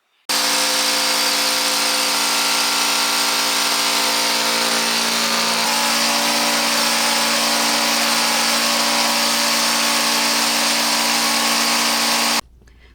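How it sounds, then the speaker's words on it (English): An air compressor runs loudly and steadily for about twelve seconds, a continuous close motor drone with a dense high hiss of air blowing out moisture, starting and stopping abruptly, with no talking. "I'll plug it in, run it for a few minutes, then open the valve, blow out any moisture that's in there"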